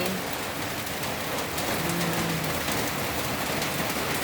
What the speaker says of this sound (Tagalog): Ayan po ang ulan, hindi na tumigil.